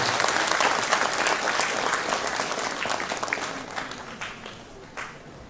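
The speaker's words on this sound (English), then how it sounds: "A big round of applause for them." A hall full of people applauds at an academic year inauguration at a business school, steady dense clapping that gradually thins and fades toward the end.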